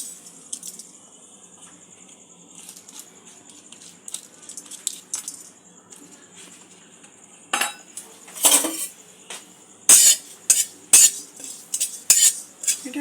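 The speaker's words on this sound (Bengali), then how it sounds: "জিরে, মৌরি আর গোলমরিচটা আমি ড্রাই রোস্ট করে নেব।" A metal utensil stirs cumin, fennel and black pepper as they dry roast in a pan. It makes scattered light clinks and scrapes at first, then sharper, louder clatters come in quick bursts toward the end, with no voices.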